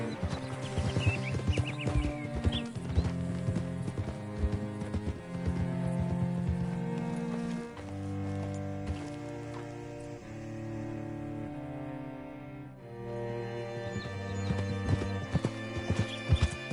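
Horse hooves clip-clop at a steady walking rhythm in Red Dead Redemption 2, close and distinct over a background musical score, with a brief whinny in the mix.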